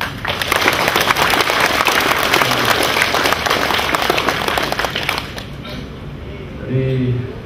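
Sustained applause from the audience at a Royal Malaysian Navy change-of-command ceremony for the education and training commander, steady clapping that fades out toward the end as a voice returns faintly.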